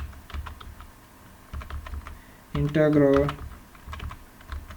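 Computer keyboard typing in quick irregular clusters of close key taps, with a short spoken word partway through.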